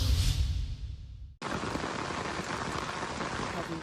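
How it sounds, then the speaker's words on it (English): Heavy rain pours down steadily, a dense, loud hiss of drops hitting surfaces that runs without a break after a brief dip near the start. "Heavy rain caused flooding and landslides in parts of Southeast Asia on Wednesday"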